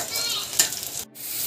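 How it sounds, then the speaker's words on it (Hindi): Green peas sizzle briskly in a pan with onion, garlic and green chili, a brief, close hiss of frying with a quick stir in the middle. "अब इसमें हम डालते हैं हरी मटर और दो तीन मिनट के लिए हम मटर को भूनते हैं।"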